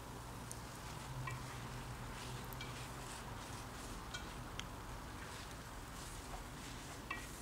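Spicy fried spaghetti with curry seasoning being stirred in a hot pan, a steady close sizzle with soft scraping and stirring throughout, no voices.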